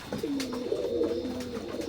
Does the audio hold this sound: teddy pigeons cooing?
yes